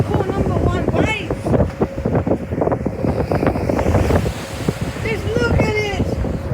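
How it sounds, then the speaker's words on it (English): Ocean waves rush past during a ferry ride on the MV Queensiff at the Heads, a broad surging wash under heavy wind buffeting the microphone, with people talking and exclaiming over it. "This is what I call good waves."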